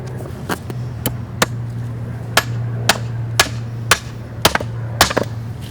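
A small sledgehammer drives a screw into a wooden fulcrum for box cribbing: about a dozen sharp, close metallic-wooden blows at an irregular pace over a low steady hum.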